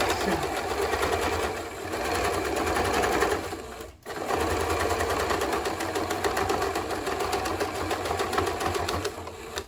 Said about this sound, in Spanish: estamos cosiendo la aplicación con zigzag